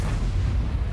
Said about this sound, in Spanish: Aquí otro disparo del T-29, que en este caso también nos da